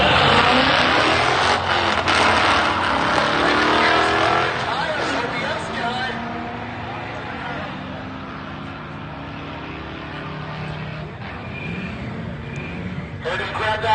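Loud drag racing engines roar and rev at high speed, a pickup truck tearing past at about 88 miles an hour with a drop in pitch, then the engine noise fading and surging again.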